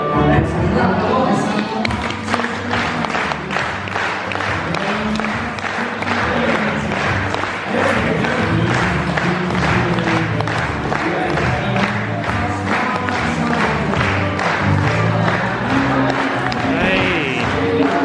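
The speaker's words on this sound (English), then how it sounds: "Let's clap along." An audience at a summer sheep show claps along to music as the first sheep walks the catwalk. Steady, dense rhythmic clapping and crowd noise fill the whole stretch over the music.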